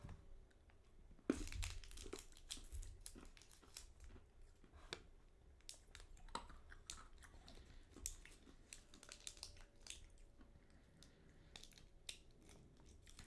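Wonka Sweetarts candies are chewed close up with quiet crunching bites and intermittent crinkling of a wrapper, faint and irregular throughout.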